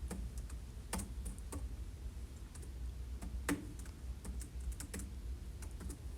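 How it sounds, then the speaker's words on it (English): Numbers keyed into a calculator or keyboard, quiet irregular clicks and taps of keys close by against faint background hiss. "If we type this guy in,"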